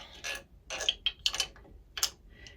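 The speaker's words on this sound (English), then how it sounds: "The next piece that goes on is the ratchet." A metal ratchet slides onto the hand wheel of a Handi Quilter longarm quilting machine, giving several short clicking and clinking contacts spaced irregularly, close by and fairly quiet, with no talk.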